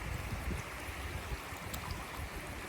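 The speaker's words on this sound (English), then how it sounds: "The river just moves so quickly." Fast-flowing river in Laos, a steady broad rush of moving water with no talking, constant and close throughout.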